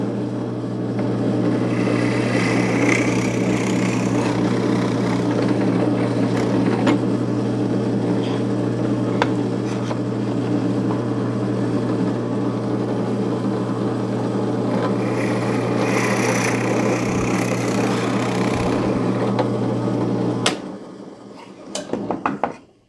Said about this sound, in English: For the mechanism that will allow the fence to adjust, I'll drill a hole centered side to side, 1 inch in from each end.